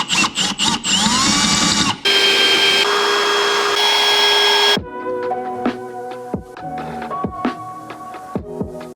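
A power drill bores into the spot welds of a car subframe in short high-pitched whining bursts, with one long sustained run followed by stop-start pulses and metallic clatter.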